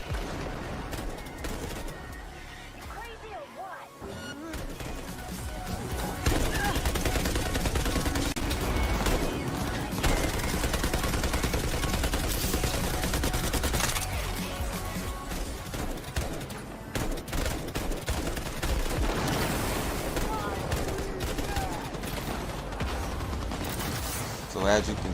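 Vehicle-mounted dual machine guns hammer away in Cyberpunk gameplay, a loud, sustained rattling barrage with mechanical clatter layered over dense game noise, growing heavier partway through and continuing nearly unbroken.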